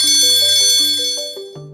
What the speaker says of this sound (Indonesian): bel pulang sekolah berbunyi